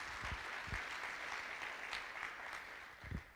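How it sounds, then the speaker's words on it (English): Applause from a conference audience, a steady wash of many hands clapping at moderate level with a few sharper claps standing out, and no voices over it. "Yes, a round of applause"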